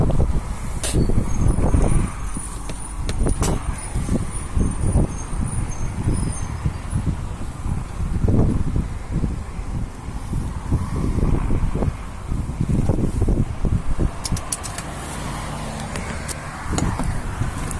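Storm wind buffeting a car in Çorum, Turkey, with heavy gusting rumbles and rattling against the vehicle in repeated surges, close and loud throughout.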